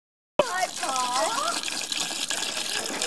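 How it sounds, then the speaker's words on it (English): Water poured into a cooking pot of vegetables at a campsite on Mt Franklin, Victoria: after a brief silence, a close, steady pour runs for about three seconds with a gurgle that rises as the pot fills. "Add water."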